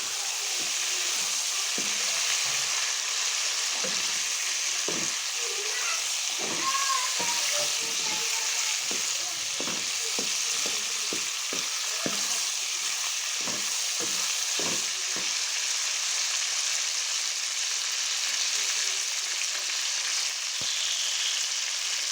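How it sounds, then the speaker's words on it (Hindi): Chicken liver frying in a kadai, a continuous loud sizzle with repeated scraping and stirring strokes in an uneven rhythm, close up and without talk. "हम अच्छी तरह से फ्राई करेंगे। आ गया हमारी कढ़ाई कलेजी और चिकन"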